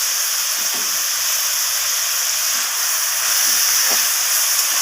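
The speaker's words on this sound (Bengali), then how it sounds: "ক্যাপসিকামগুলোকেও আমি গাজর আর বিনসের সাথে ভাজা করে নেব" Capsicum frying in a pan with carrots and beans for veg fried rice, giving a steady, close hiss and sizzle throughout with a few faint low knocks underneath.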